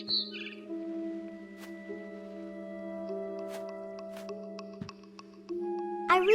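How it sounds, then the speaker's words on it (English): Barn swallow chirping in the video game What Remains of Edith Finch: a few brief, high chirps at the start and again at the end, heard over steady sustained tones. "It was a barn swallow going back to her nest."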